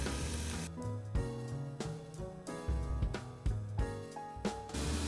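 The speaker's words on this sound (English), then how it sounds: "We're gonna toss in the onions and peppers" Onions and peppers frying in a teaspoon of oil on a stove, a steady soft sizzle with light stirring, heard under tonal background music.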